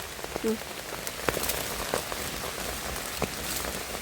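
Steady rain patters on leaves and ground while mushrooms are gathered outdoors, with a continuous soft hiss broken by a few sharper drips close by.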